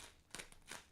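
A couple of quick, quiet snips as scissors cut through the packaging of a model car kit, two short crisp cuts close by in a quiet room.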